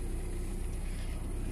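A car engine still running after its alternator was repaired, a steady low rumbling idle with an even hum and no talk, continuous through the short stretch.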